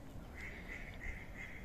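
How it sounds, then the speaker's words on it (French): Several ducks quacking near a bay on the Portuguese coast, a run of four or five repeated nasal calls at moderate distance over faint outdoor background noise. "Ah, il y a beaucoup de canards ici."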